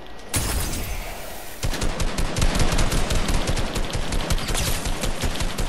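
Video-game gunfire erupts after a brief pause, with dense machine-gun bursts pounding on loud and continuous for several seconds.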